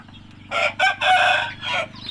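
A pale yellow white-tailed rooster crows once, close and loud, in a broken multi-part call lasting about a second and a half over a low steady background hum.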